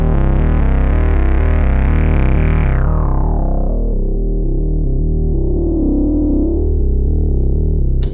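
A Moog Messenger synthesizer plays a sustained, distorted bass tone with its res bass switch engaged. The bright resonant sweep closes down into a darker, steady drone, heard loud and alone.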